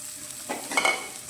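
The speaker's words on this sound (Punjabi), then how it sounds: "ਹੁਣ ਇਹਦੇ ਵਿੱਚ ਆਪਾਂ ਇੱਕ ਪਿਆਜ਼ ਲਿਆ ਉਸ ਨੂੰ ਬਰੀਕ ਕੱਟ ਲਿਆ ਉਹ ਪਾ ਦਿੰਨੇ ਆ" Finely chopped onion goes into a hot pan for pasta, giving a brief close sizzle with a few scraping stirs.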